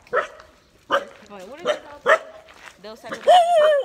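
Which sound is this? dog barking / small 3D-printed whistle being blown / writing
dog barking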